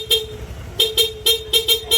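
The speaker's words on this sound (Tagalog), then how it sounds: "kinabit natin PIA auto style horn, dual horn setup" A dual-horn setup on a Honda Click V2 scooter blares in a series of short, sharp honks, one longer blast followed by several quick toots in a steady rhythm, loud and close.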